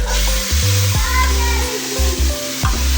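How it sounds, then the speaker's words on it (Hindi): Loud, steady sizzling of tempering spices frying in hot oil, with stirring clinks and scrapes throughout and no talking. "इसको भी हम लगाएंगे तड़का"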